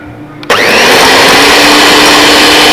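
An electric mixer whips 40 grams of butter with 20 grams of white sugar for a cranberry crumble filling, switching on suddenly into a loud steady whirring drone close by and cutting off at the end, with no talk.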